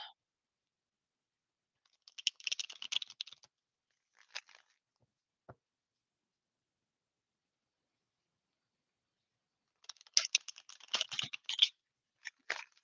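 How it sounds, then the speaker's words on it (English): Short bursts of crisp papery riffling and light tapping as tarot cards are shuffled, two main flurries separated by a long quiet stretch, close and fairly soft. "I'm just going to sit here and shuffle these cards for a few minutes"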